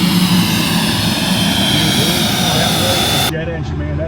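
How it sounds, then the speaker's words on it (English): Cirrus Vision Jet engine roaring on a cold ramp, a loud, sustained whooshing roar with a high whine on top, cutting abruptly to a quieter hum near the end. "Jet engine, man, that thing roars."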